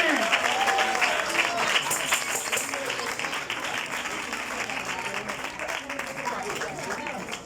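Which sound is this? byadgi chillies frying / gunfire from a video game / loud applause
loud applause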